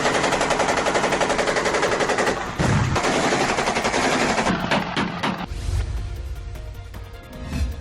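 Gunfire from Ukrainian soldiers in battle against Russian troops, loud rapid machine-gun bursts for several seconds, then scattered sharper shots and a lower rumble as the firing thins out.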